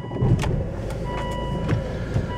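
A 2005 Volvo V50 estate idles steadily after starting, with a low continuous engine rumble and a few faint clicks and knocks from the cabin.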